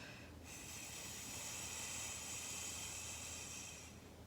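A voice imitates a lawn sprinkler with a steady, breathy whispering hiss that holds evenly for about four seconds, soft and close.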